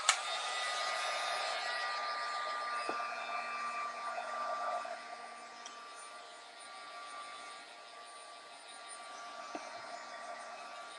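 A hair dryer blows steadily across freshly stamped ink for a quick dry, a loud continuous broadband whoosh lasting the whole stretch, with a slight dip in level midway before picking back up.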